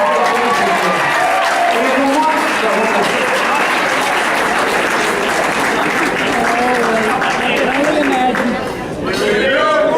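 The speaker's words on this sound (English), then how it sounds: "give him a round of applause" Wedding guests at a reception break into loud, sustained applause after a toast, with cheers and whoops mixed into the clapping and a short dip near the end.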